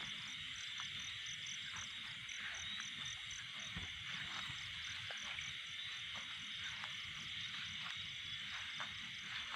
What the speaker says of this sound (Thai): อุ้ยอึ่งอ่างค่ะ